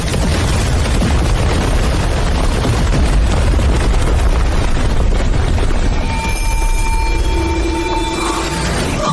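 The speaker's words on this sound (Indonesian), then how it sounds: "Ledakan wilayah kedua." Loud, sustained explosion effect from an arena battle scene, a dense continuous roar of blasts and rumble that fills the whole clip, then thins near the end as high ringing tones and a lower hum come through.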